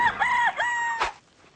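A rooster crows loudly near a chicken coop, its call wavering and stretched out, then a short sharp rustle or flap before it fades quiet.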